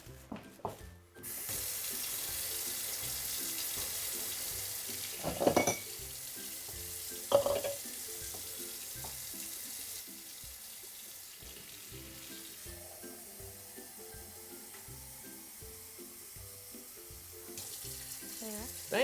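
Steady stream of water from a kitchen tap runs for a long stretch, close by, with a couple of brief clatters partway through and no talking.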